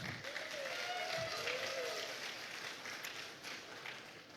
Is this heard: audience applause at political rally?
yes